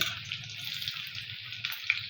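Chopped onion frying in hot oil in a kadai, a steady soft sizzle with faint crackle, close and quiet, running alone without talk.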